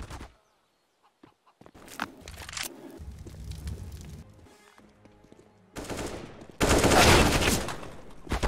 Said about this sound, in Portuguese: mas o Dan também deu um tiro ali